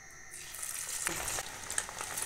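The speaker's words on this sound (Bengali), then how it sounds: "এবার আমি এটা তেলের মধ্যে ছেড়ে দেব" Chicken pakora pieces are dropped into hot oil in a pan on a gas flame, setting off a steady, fairly quiet sizzle with a sharper burst of crackling midway as more batter hits the oil.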